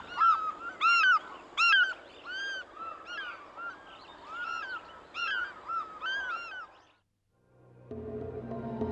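An African fish eagle in Africa gives a long series of loud, ringing yelps in quick succession, which fade out after about seven seconds into a short silence before a different low sound starts.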